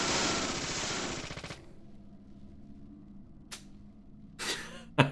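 Gunfire in the Deadly Premonition video game opens with a dense rapid burst that cuts off abruptly, followed after a quiet stretch by a few isolated sharp shots.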